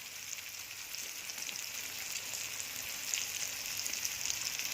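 Ginger paste and turmeric powder sizzle steadily in a hot frying pan while a chicken curry is being cooked, a continuous close hiss with light crackles throughout.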